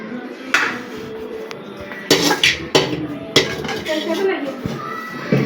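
Dishes and plates clatter and clink in a home kitchen as a table is set, sharp bursts of metal and ceramic knocks coming in irregular clusters close by, with faint voices in the background.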